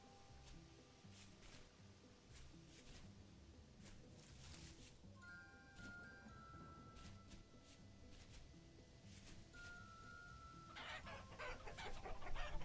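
Chickens cluck steadily in the farming survival game Vintage Story, soft repeated clucks running throughout over an ambient game soundscape, with a brighter burst of activity near the end.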